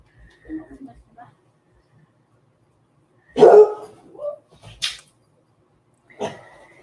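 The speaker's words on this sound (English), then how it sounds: "Those are my dogs. Bark at the people you don't know as they're going out the door." Pet dogs indoors bark at visitors heading out the door: three separate loud bursts spaced a second or more apart, with quiet stretches between.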